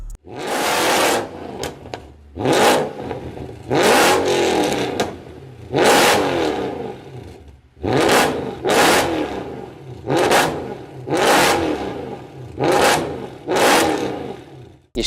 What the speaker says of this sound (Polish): A wierzcie mi, że dźwięk tego układu wydechowego jest niesamowity.